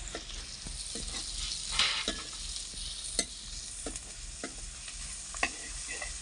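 Cumin seeds sizzle steadily in hot oil in a pan, with repeated scraping stirs and a few sharper clinks of the spoon against the pan, close and continuous with no talking.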